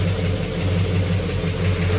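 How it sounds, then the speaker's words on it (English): A Pontiac GTO V8 idles steadily right after being fired up following a spark plug reorientation, with a low, rumbling drone holding even throughout, close and fairly loud, with no talking. "Andrew, go ahead and try to fire it up"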